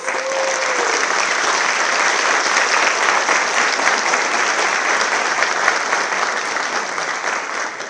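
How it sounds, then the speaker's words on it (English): Dense, steady applause from an awards-ceremony audience honoring the student award committee, loud and sustained throughout with no pauses. "Let's give them a big round of applause."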